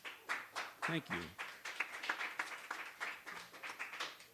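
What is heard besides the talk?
open mic audience applauding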